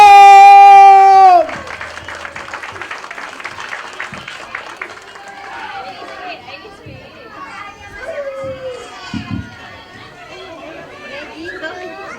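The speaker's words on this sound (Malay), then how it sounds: "berikan tepukan gemuruh kepada anak-anak tarikan Nurul Kalam" At a kindergarten talent show and graduation day, a loud sustained tone cuts off, then scattered clapping mixes with lively children's voices and crowd chatter throughout.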